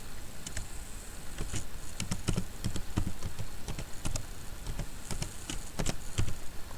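Rapid, irregular keystrokes on a computer keyboard as a username and password are typed at login, close and crisp with uneven bursts of clicks and no voices.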